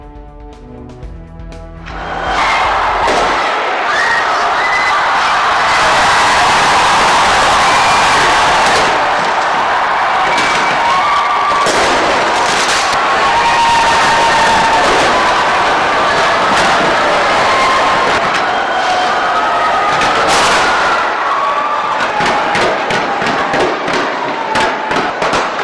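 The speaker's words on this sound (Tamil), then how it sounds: "வண்ண வண்ண வான வேடிக்கைகளை வெடித்து புத்தாண்டை வரவேற்று மக்கள் உற்சாக" Fireworks burst continuously over a New Zealand New Year 2025 celebration, loud dense crackles and booms layered over a faint crowd for about twenty seconds.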